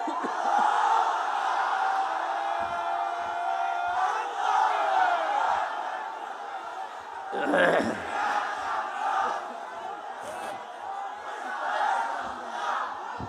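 Crowd at a Bangla waz mahfil religious gathering shouting the takbir response in unison, a sustained mass of voices with louder surging calls partway through, fairly close and full.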